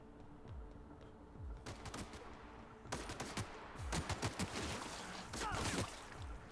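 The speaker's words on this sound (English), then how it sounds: "Whoa, they're shooting me." Enemy gunfire in The Outer Worlds, a video game: bursts of rapid shots come in clusters over a steady background hum, growing denser and louder toward the end.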